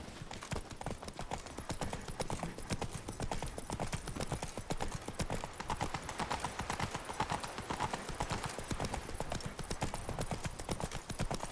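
Roach the horse gallops in The Witcher 3, a fast, steady drumming of hooves that keeps a tight rhythm throughout, close and fairly quiet, with no talk.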